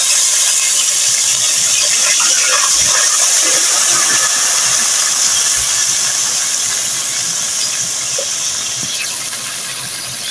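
Garlic dropped into frying onions sizzles in a pan: a loud, steady broadband hiss of hot oil that runs throughout, with faint scattered pops and crackles, slowly easing off toward the end.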